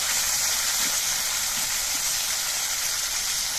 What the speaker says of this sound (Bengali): এবার মাছগুলো ভেজে নিচ্ছি কয়েকটা করে পিস দিয়ে মাছগুলোকে ভেজে নিচ্ছি